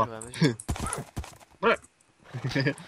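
Minecraft horses whinny and clop their hooves in short, uneven bursts, close and clear, with people talking over them.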